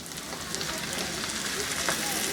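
Noodles dropped into a hot pan with softened cabbage and spring onion greens for yaki udon, giving a steady close frying sizzle with light crackles throughout.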